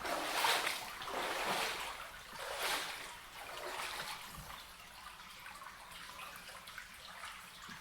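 Water flows through an underground river cave at Tham Lot Phraya Nakarat, a steady, moderately faint rush and trickle with a few swelling surges in the first seconds, then an even wash that holds to the end.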